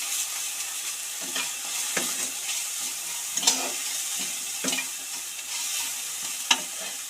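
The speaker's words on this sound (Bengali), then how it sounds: "এগুলোকে আমি হালকা ভেজে নেব।" Ginger-garlic paste with salt fried lightly in a pan for chicken soup, a steady close sizzle broken by repeated scraping strokes of a spatula at an irregular rhythm.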